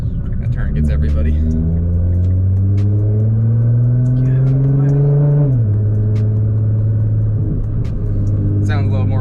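An 800 whp Nissan GT-R with a C800 engine build rumbles deeply while driving, revving up steadily in pitch before easing off and settling into a lower drone, loud and close, with people talking over it.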